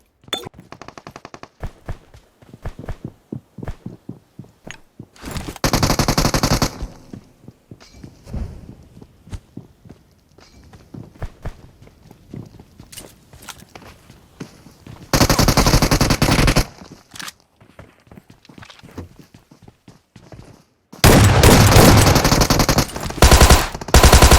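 Gunfire in PUBG Mobile rattles in sharp single shots and several loud automatic bursts, with footsteps and quieter gaps between the volleys.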